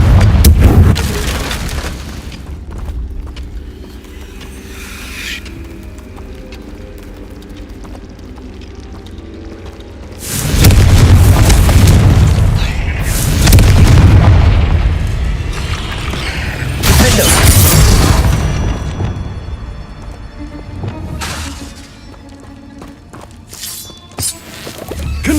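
Repeated Confringo spell blasts in Hogwarts Legacy, loud booming bursts with crackling shatter at several points, separated by quieter stretches of ambient game sound and a few soft footsteps.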